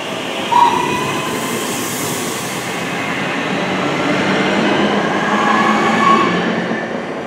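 Steady loud rumble of a Northern passenger train arriving at Sandbach railway station, with faint metallic squeals rising over the continuous low roar.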